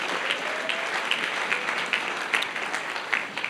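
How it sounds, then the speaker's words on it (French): A church congregation applauding together, a dense, continuous wash of clapping that holds steady throughout at a moderate distance, with no speech over it. "Acclamons la parole de Dieu."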